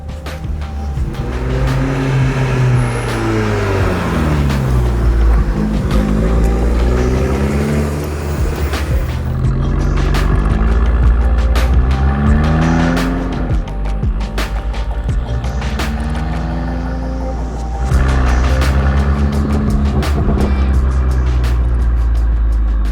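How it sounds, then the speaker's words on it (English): A Fiat Abarth 695 Tributo Ferrari is driven with its exhaust note rising and falling through repeated gear changes, heard close and loud from inside the car, with downshift blips and pops between pulls. "As I down change there, you can start to hear the exhaust tones coming in."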